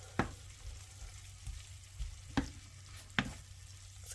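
Pre-seasoned leftover steak sizzles faintly as it cooks in a pan, a soft steady frying hiss broken by a few sharp scrapes and taps of stirring, quiet and close, with no voices.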